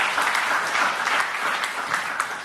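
Worshippers at a church service break into lively, steady applause for Jesus, with thick continuous clapping filling the room from start to finish.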